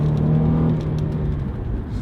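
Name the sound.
Cadillac car accelerating while driving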